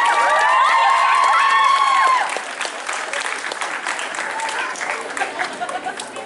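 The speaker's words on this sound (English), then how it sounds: "Round of applause, guys." At a YumaCon 2016 cosplay convention, an audience applauds and cheers for cosplayers, loud dense clapping with whoops and shouts that eases into lighter clapping and chatter.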